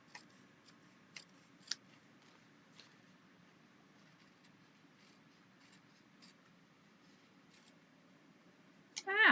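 Scissors trim the overhanging edges off a paper craft in a quiet room, with sparse, faint snips spaced out one at a time and a short, louder burst at the very end.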